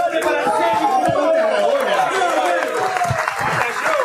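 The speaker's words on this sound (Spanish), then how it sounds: "Un aplauso grande para el" An audience at a live written rap battle league event applauds and chatters, with loud, steady clapping mixed with overlapping crowd voices and cheers throughout.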